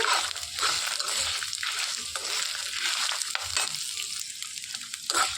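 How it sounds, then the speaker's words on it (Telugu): Finely chopped ginger pieces frying in hot oil, a steady loud crackling sizzle with occasional stirring scrapes throughout, close and alone with no talk. "సన్నగా తరిగి పెట్టుకున్న అల్లం ముక్కలు చక్కగా వేయించేసుకోవాలండి మాడిపోకుండా."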